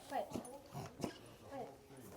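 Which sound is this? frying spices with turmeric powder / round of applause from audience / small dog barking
small dog barking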